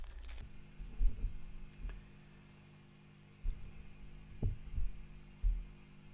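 A Vox Super Foundation Bass solid-state amplifier, switched on after bias adjustment and with a burnt board, gives off a low, steady hum with a few soft thumps and throbs, close and fairly quiet.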